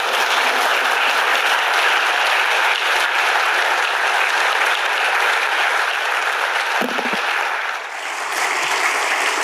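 Sustained, dense applause from a large crowd, steady and loud throughout, dipping briefly near the end before swelling again.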